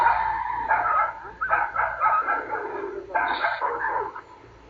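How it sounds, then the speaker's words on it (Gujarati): A street dog barks and growls at a leopard trapped about 25 feet down a village well, its sharp calls coming in bursts close by with brief gaps between. "કૂતરો દીપડાને ધમકાવી રહ્યો છે"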